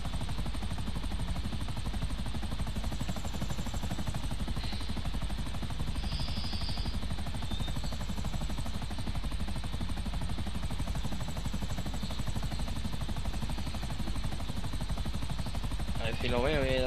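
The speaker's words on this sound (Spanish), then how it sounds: "Voy a dar vuelta con el helicóptero así por el cielo" Helicopter rotor drone in the video game GTA V, a constant loud whirring wash throughout while flying across the sky, with someone talking over it.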